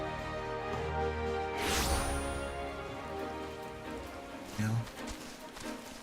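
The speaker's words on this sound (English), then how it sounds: "This had to be on a rainy day." Rain falls steadily in Final Fantasy XIV, a constant patter under the game music, with a brief swell in the middle. A voice speaks briefly.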